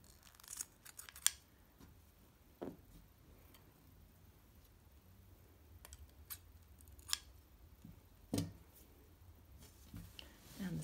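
Scissors snip a small triangle from a naturally dyed fabric banner, giving faint, scattered cuts and soft rustles in a quiet room.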